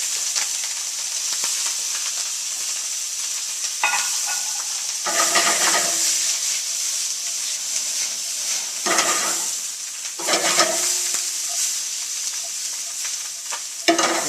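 Vegetables and crawfish sizzle in butter in a pan, a steady hissing fry that swells in loud bursts as the contents are stirred, with scraping between quieter stretches.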